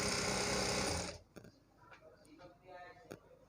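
A sewing machine stitching a lehenga whirs loudly for about a second, then stops, leaving faint handling clicks and soft rustling of cloth.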